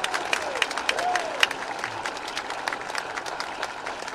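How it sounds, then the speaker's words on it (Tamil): Applause from an audience at a lively Tamil public speech by orator Manikandan, a scattered field of claps with crowd murmur, moderately loud and steady throughout, with a few sharper claps standing out. "ஒரு நல்ல கைத்தட்டு கொடுங்க சார்"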